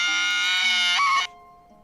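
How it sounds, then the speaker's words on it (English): A scream in the video game Radiant Historia, a harsh, high, sustained synthesized cry held for over a second that shifts pitch near its end and cuts off abruptly, leaving a faint tone. "That was quite the scream."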